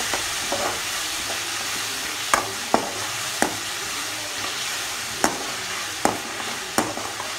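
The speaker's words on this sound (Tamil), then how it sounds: "உப்பு ஆட் பண்ணிக்கிட்டு நல்லா கிண்டிடுங்க" Vegetables, salt and spices being stirred in a hot frying pan for wheat parotta kuruma: a steady sizzle throughout, broken by several sharp scrapes and clinks of the spoon against the pan, close and alone.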